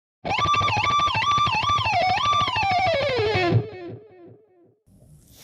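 A distorted electric guitar lick, with wavering bends and a descending slide, loud and alone, fading into scratchy string noise at the end.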